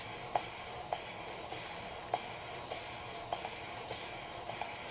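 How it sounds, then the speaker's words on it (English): A model steam plant hisses steadily during a low-pressure steam test, with soft rhythmic puffs and faint clicks from the engine repeating about once a second, close and quiet. "Let the steam test begin."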